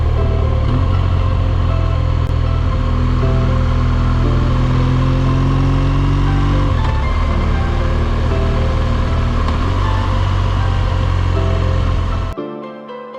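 A touring motorcycle rides a road in Romania toward Sibiu, its engine holding a loud, steady drone with wind rush, rising slightly in pitch as it accelerates before the sound cuts off abruptly near the end.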